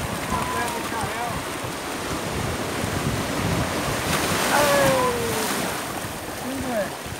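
Waves and strong wind at Praia do Xaréu beach in Cabo de Santo Agostinho, a continuous roar of surf with heavy wind buffeting the microphone, loud and close, with faint voices in the background.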